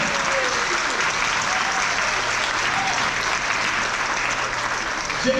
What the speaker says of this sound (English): please give a big round of applause and welcome to Jason